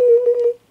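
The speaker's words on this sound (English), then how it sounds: "Looks like I'm getting a phone call." An incoming-call ring on a telephone: one steady electronic tone with a buzzy edge, holding for about half a second before cutting off, clear and alone with no talking.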